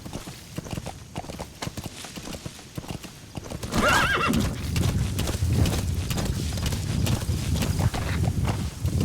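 Horse hooves clip-clopping in a steady walking rhythm with a clear neigh, from the video game Metal Gear Solid V: The Phantom Pain, heard over a busy in-game soundscape.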